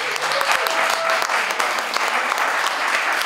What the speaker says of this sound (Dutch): Dat was een heel groot applaus.